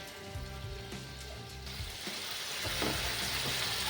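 Red chilli and garlic paste, loosened with a splash of water, fries in hot oil in a pan, a dense hissing sizzle that swells slightly toward the end with faint clicks and scrapes.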